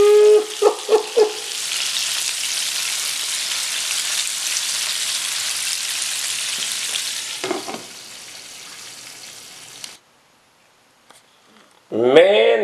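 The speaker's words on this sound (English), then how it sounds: "We cooking some turkey wings or turkey wangs" Turkey wings fry in a pan, a loud, dense, continuous sizzle for several seconds before cutting out, with a voice briefly at the start and again at the end.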